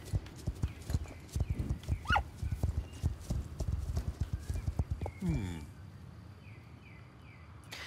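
Pony hooves clip-clop at a steady trot in the video game Star Stable Online, a close, rhythmic run of hoofbeats with a brief whinny and a voice speaking over it, fading to quiet ambience near the end.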